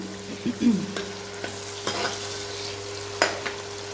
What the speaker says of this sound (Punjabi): ਜਿਹੜਾ ਅਦਰਕ ਤੇ ਪਿਆਜ਼ ਆ ਇਹਨੂੰ ਆਪਾਂ ਚੰਗੀ ਤਰ੍ਹਾਂ ਭੁੰਨ ਲੈਣਾ ਹਾਂ